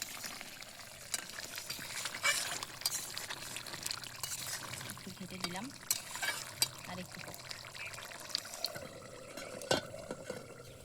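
Cooking oil pours into a pot over an outdoor fire on a riverbank, a soft liquid trickle with sizzling and crackle underneath, while a person talks intermittently nearby.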